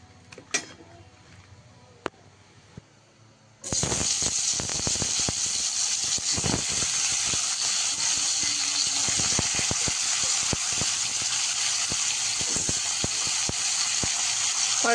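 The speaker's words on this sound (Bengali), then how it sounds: "আর মাছগুলো দিয়ে দিয়েছি। এবার সুন্দর করে একটু ভেজে নেব।" Fish frying in hot oil in a wok, with a loud, steady sizzle that bursts in suddenly and keeps going, sprinkled with sharp pops and crackles.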